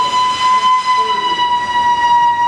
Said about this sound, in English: Whoa, I hear a train whistle.